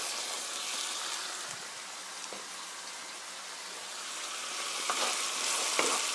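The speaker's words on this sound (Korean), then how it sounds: "고루 볶아주세요. 케찹의 신맛이 좀 날아가게 볶아주세요." A sauce of ketchup and vinegar is stir-fried in a pan, giving a soft, even, rain-like sizzle that holds steady and swells slightly toward the end, with faint stirring scrapes.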